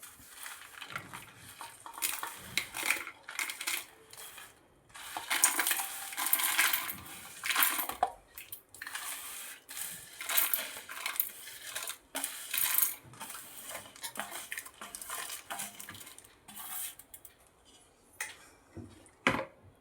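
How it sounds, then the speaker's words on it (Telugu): Dried red chillies and curry leaves rattle and clatter into a mixer jar in repeated bursts, crisp rustling pours separated by brief quiet gaps, close and fairly loud. "ఇప్పుడు వీటిని మిక్సీ జార్లో తీసుకోవాలి"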